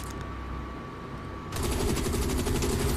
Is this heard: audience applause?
no